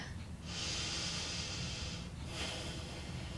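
Two long breaths during a lunge-style yoga stretch that opens the back hip: a steady airy inhale of about a second and a half, a short pause, then a softer exhale, close and clear with no talking.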